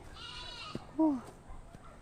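A single short goat bleat rises clearly over quiet outdoor background, with faint scattered knocks and distant sounds around it.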